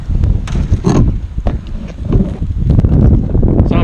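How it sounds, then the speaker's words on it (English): Wind buffets a microphone outdoors at an FPV drone flying spot, loud rumbling gusts with low thumping bursts that continue throughout. "I'm trying to block the wind as much as I can."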